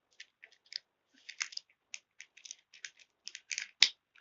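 A fidget cube joystick being clicked and wiggled close up: a quick irregular run of small sharp plastic clicks and ticks, bunched in clusters with short pauses, one louder snap near the end.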